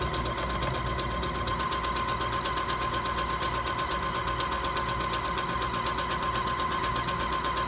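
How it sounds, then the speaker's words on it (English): A Singer Featherweight C240 sewing machine runs steadily while stitching an automatic buttonhole, its fast, even mechanical whir and rapid needle ticking continuous and close throughout, with no talking. "now when I start to sew, it'll actually do the whole buttonhole"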